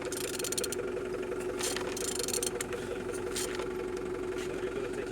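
A gas turbine aircraft engine, serial 1A469, hums steadily at a moderate distance, giving a continuous droning whine with some rumbling texture and no voices over it.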